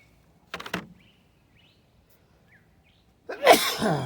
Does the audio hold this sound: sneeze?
yes